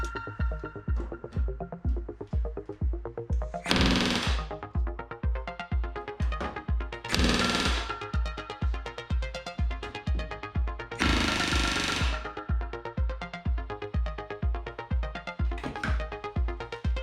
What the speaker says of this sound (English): So when I started the firewall riveting, I was all about back riveting.